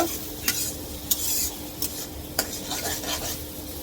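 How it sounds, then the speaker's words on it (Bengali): Onion fries gently in a pan for a beef curry, a soft low sizzle under a series of sharp spatula scrapes and taps against the pan, heard up close without talk. "পেঁয়াজটা হালকা একটু ভেজে নিব"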